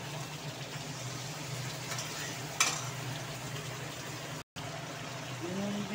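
Fried potatoes simmering with tomato sauce in a pan for a vegetarian curry, a low bubbling sizzle with one sharp clink of a utensil and a brief cut to silence near the end.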